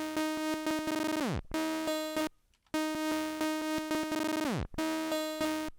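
Saw wave synth run through the dBlue Glitch plugin and played back repeatedly, bright buzzy tones broken by stutters, sudden cuts, brief silences and downward pitch sweeps, with the same chopped pattern recurring and no voice.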